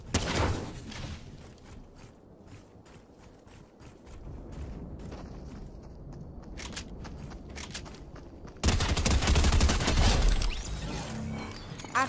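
SMG gunfire in the Fortnite video game: rapid bursts of shots, faint and scattered at first, then a loud, dense volley near the end.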